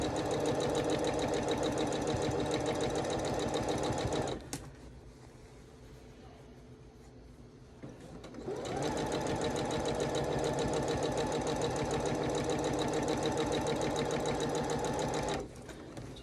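A sewing machine stitches quilt sashing in two long fast runs separated by a short pause, a close, rapid mechanical whir; the machine occasionally skips stitches.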